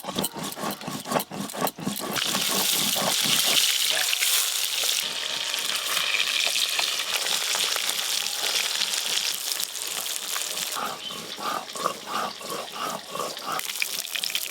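Cumin and coriander seeds fry in hot oil with a steady, loud sizzle that runs throughout, with some stirring and clattering near the start.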